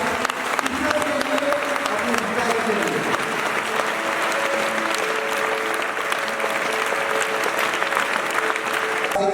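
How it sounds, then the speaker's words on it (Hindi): Loud, steady applause from a school audience at a ceremony honoring selected NEET students, continuous clapping with faint tonal sounds in the background. "तो एक बार जोरदार तालियां"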